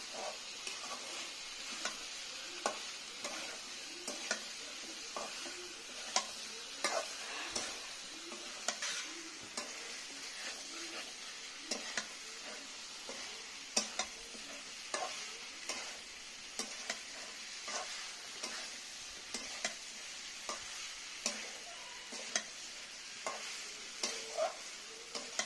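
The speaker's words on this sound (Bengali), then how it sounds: "মাংসটা আমি কষিয়ে নিচ্ছি, নাড়াচাড়া করছি।" Pigeon meat frying in a pan as it is stirred and browned, a steady bright sizzle under repeated scraping strokes and light ticks from the spatula, continuing alone without any voices.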